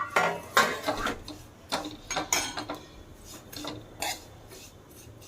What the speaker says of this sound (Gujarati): ઘી ગરમ થાય એટલે આપણે એમાં સેવૈયા ઉમેરી દેવાના છે।